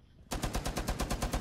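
Automatic gunfire from a video game shooter erupts suddenly after brief quiet, a fast, evenly spaced burst of around a dozen loud close shots.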